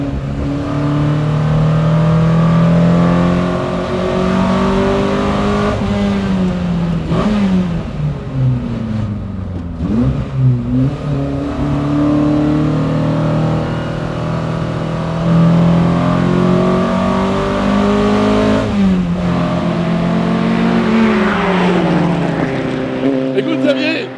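A 1967 Nomad MK1 race car on the Dijon circuit, its engine droning loudly and continuously with pitch swings as it revs up and shifts through gears, close and steady throughout with no talk.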